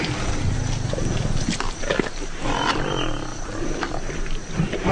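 Lions of a pride feed at a buffalo kill, giving low rumbling growls and snarls over continuous crunching and tearing, close and loud throughout.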